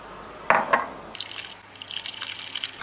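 Makeup brush rinsed in a dish of shampoo water, giving a couple of close wet swishes and sloshes, then a lighter stretch of soft trickling and dripping liquid, fairly quiet with no talk.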